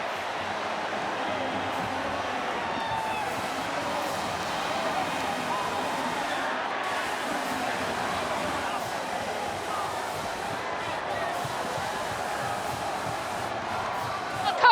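A roaring stadium crowd at Husky Stadium keeps up a constant wash of cheering as fans pour onto the field after a college football win, a sustained, dense noise under an announcer's voice.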